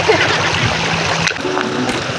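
River water near a rural home flows and splashes close by, a rushing, bubbling wash with brief splashes, heard under and between a person's talking.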